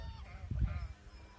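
A domestic goose gives a brief, faint honk at close range over a quiet background.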